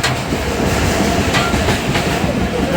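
An express train moves through Bangladesh, heard from inside the carriage as a loud, steady rumble. Rhythmic clickety-clack wheel beats sound over the rails.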